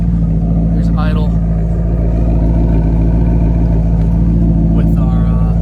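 A 2009 Maserati GranTurismo F1 with a 4.7 V8 idles with its exhaust open in sport mode, a loud, steady, deep rumble that continues throughout, with brief voice-like sounds over it.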